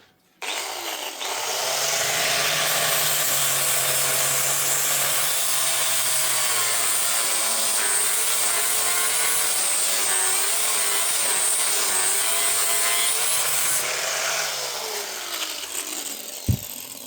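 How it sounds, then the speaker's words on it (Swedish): A power grinder works on a rusty Skoda sill in a workshop. After a brief start, the abrasive metal grinding is loud and harsh and holds steadily for about twelve seconds before winding down. "När jag börjar slipa lite grann"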